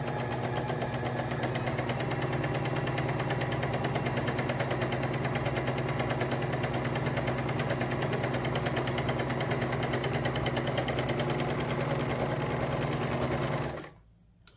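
A Singer overlock sewing machine runs continuously at a fast, even buzzing rattle for about fourteen seconds, loud and close, then cuts out abruptly at the end.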